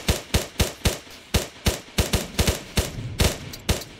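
A tactical video game fires a rapid string of about a dozen sharp, loud gunshots at an uneven, quick rhythm. Each shot is a close, punchy crack followed by a brief tail.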